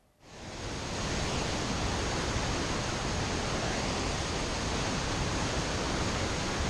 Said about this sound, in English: The sound of the water is deafening.